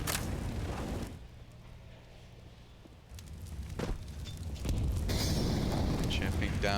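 A grenade goes off in Counter-Strike on the Mirage map during a pro match, a muffled boom and burst over ongoing game noise and commentary, with loud activity swelling toward the end.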